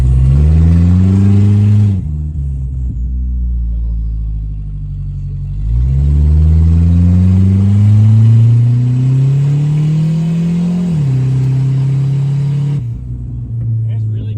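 A car with its exhaust cut off revs loudly and raggedly, the engine note climbing in two long pulls with a lower idle rumble between them, all close by.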